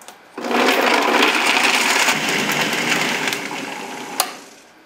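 A blender whirs loudly for about four seconds, blending almonds and water into almond milk, starting abruptly after a brief click and winding down at the end with a sharp knock.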